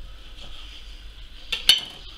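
Knife slicing through a cooked pigeon crown on a plate, a soft steady scrape followed by two sharp clinks of blade on plate near the end, close and fairly quiet.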